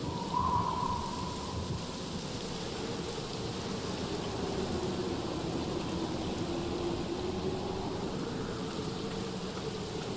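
Steady rain falls in a horror video game, a constant dense hiss with a low rumbling undertone, even and unbroken throughout, with no talk.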